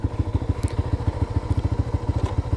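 A Suzuki GSX-R125 ABS motorcycle engine idles close by with a fast, even, thumping putter throughout, loud and steady with no voices.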